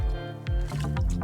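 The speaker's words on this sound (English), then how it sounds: "There's some little rocks just flowing down the water." Water sloshes off a gold pan as small rocks tumble and wash down with it, wet swishing rising and falling in a few close, steady surges.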